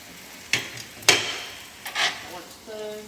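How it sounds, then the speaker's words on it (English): Tongs stirring soft pad thai noodles in a pan, a few scraping, clacking strokes spaced apart over a quiet background, close and moderately loud. "Once the noodles look soft, You can stir it with the tongs much easier."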